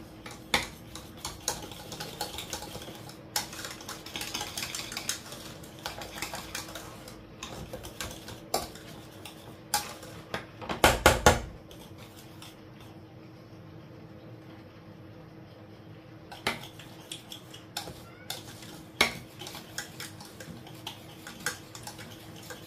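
A spoon stirring beurre blanc sauce in a pan, heard as scattered light metallic clinks and scrapes against a steady kitchen hum, with one louder clatter midway.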